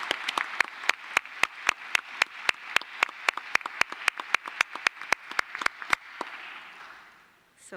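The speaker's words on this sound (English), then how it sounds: "Please join me in a round of applause to thank His Excellency," Applause for a minister at a cultural heritage conference in Naples comes across as sharp, evenly spaced claps, about twenty in a steady rhythm, fairly close and moderate in level, before fading into a soft murmur.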